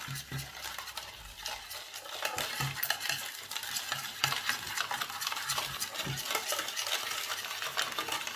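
Fried rice being stirred and tossed in a pan, with busy scraping and clinking of a utensil against metal over a sizzling bed of sound, close and continuous with no voices.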